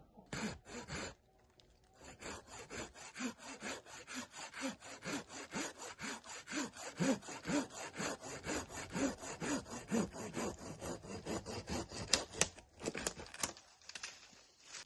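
A budget Chinese hand saw cuts through a green walnut branch with steady, rhythmic rasping back-and-forth strokes, close and fairly quiet, going on for many seconds with no voices.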